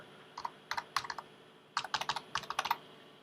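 Someone types on a computer keyboard during a PC setup upgrade, with short bursts of sharp, close key clicks and brief pauses between groups.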